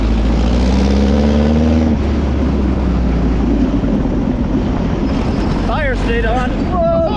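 Engine of a homemade free dune buggy revving hard under throttle outdoors, a loud continuous rumble with rising and falling pitch, buffeted by wind, with brief voices near the end.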